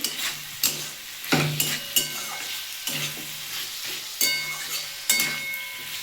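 A spatula scrapes and stirs tomato curry for paneer and okra in a hot pan, with repeated sharp scraping strokes about once a second over a steady close sizzle, and no one talking.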